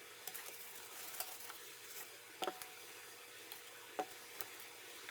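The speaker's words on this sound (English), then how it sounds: "Add a little bit of the soap batter into each of the cups and stir it in" Soap batter being stirred in small cups gives faint, quiet ticks and clicks of a utensil against the sides, scattered irregularly over a soft background hiss.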